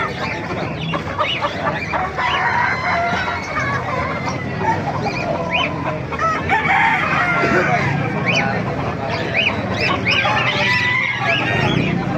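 Roosters and other fowl crow and call at a crowded chicken market in Calumpit, Bulacan, with repeated overlapping cock-a-doodle-doos rising over a steady din of birds and occasional voices talking.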